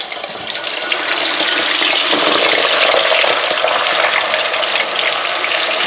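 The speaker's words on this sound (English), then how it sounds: "It spatters oil, and you don't want it to happen." Chickpeas (channa) frying in hot oil, a loud, close, steady hiss with dense crackling spatter that swells after the first second and holds constant throughout.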